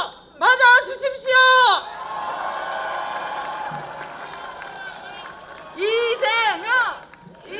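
At a Busan campaign rally for candidate Lee Jae-myung, an audience applauds with a broad, steady wash of clapping. An announcer's voice comes just before it and returns just after it.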